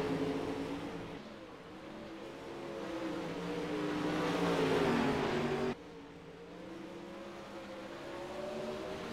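Pro late model race cars circle a track in a sim racing series, with engines droning and swelling as they pass, a sustained revving roar that rises, cuts off abruptly, then carries on.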